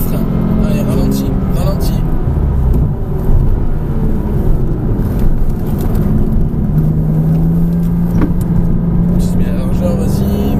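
Porsche Cayman S on a track at Grand Sambuc during a driving course, heard from inside the cabin: a loud, continuous engine drone dips as the car brakes, then climbs again under acceleration, with tyre and road noise.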